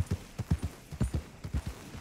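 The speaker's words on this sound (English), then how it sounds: "Just riding my horse around." Steady clip-clop of horse hooves at a walking pace in a video game, a rhythmic series of soft thuds, fairly quiet with no talking.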